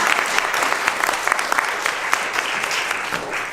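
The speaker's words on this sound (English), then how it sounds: "Can you join me in giving them a round of applause?" Audience applause at a political candidates' forum, a steady wash of many hands clapping close and dense, holding even throughout with no voices breaking through.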